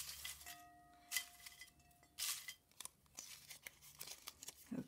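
Paper envelopes stirred around in a container for a prize draw, giving quiet, irregular rustles, crinkles and light clinks close by, with no talking.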